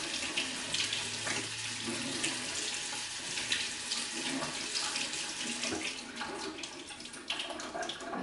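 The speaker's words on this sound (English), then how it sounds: "I'm going to just rinse them under cold water for a minute" Cold tap water runs steadily over cooked noodles being rinsed in a sink for a tuna casserole, a continuous close splashing stream with no talking.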